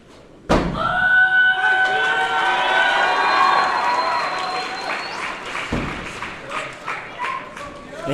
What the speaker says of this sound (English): a pause in kiai gives you an eruption from the crowd like that